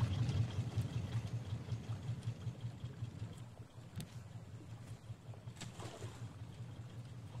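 Boat engine on a raft in the survival game Raft, a steady low idling drone with faint water wash, continuous and moderately quiet throughout with no talk.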